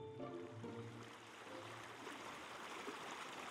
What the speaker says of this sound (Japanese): 川が流れ、川の向こう岸には小さな村がありました。